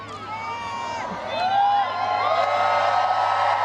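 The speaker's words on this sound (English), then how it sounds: "I had to drum up that applause" A crowd at a Kamala Harris rally cheers and whoops, rising from scattered shouts to a louder, sustained wave of excited voices and applause.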